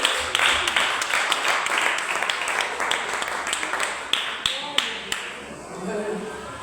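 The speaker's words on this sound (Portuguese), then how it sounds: "dê uma salva de palmas para Jesus" A church congregation breaks into a sustained round of clapping, dense and fairly close, with a few sharper individual claps standing out before it thins and a voice comes in at the end.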